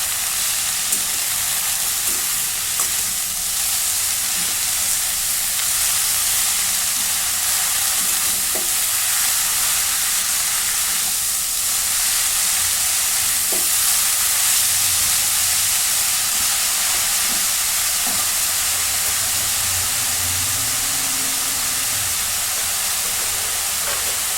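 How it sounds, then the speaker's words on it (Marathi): Red amaranth greens are stirred in a frying pan over a loud, constant hiss of steam and sizzle, with occasional soft scrapes of the spoon throughout. "पुन्हा एकदा भाजी मिक्स करून घेते"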